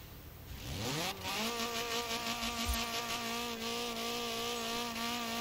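A buzzing car engine in Forza Horizon 4 rises sharply in pitch, then holds a steady, high, whiny drone that sounds almost insect-like.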